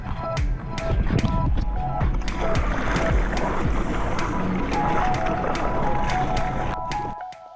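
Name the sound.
surf pool wave machine starting up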